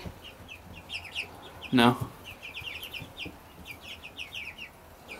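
Chickens cluck and chatter steadily at close range, with a brief human voice cutting in partway through.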